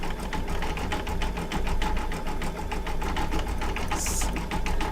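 An embroidery machine stitching an in-the-hoop mug rug, running with a fast, even mechanical rattle of needle strokes, close and continuous, with no talking.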